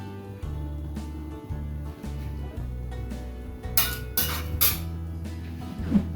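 Metal wok clatters and clinks on a gas stove while oil goes in for Bengali prawn pulao, with sharp scraping bursts toward the end over a steady low hum.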